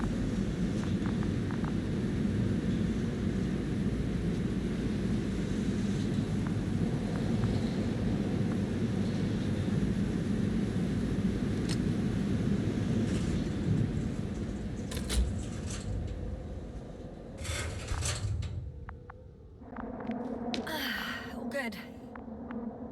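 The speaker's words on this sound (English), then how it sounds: "I'm climbing onto the hovering transporter." A hovering transporter in The Invincible gives off a steady, loud engine roar and rumble with a broad hiss, continuous for most of the stretch before thinning out near the end.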